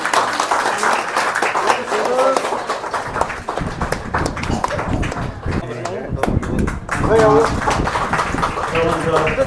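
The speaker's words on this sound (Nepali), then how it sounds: "ताली बजाएर उहाँलाई धन्यवाद दिनेछौँ।" An audience at a Women's Day 2025 event claps for elderly women honoured on stage. The dense, fairly loud applause runs throughout, partly under talking voices.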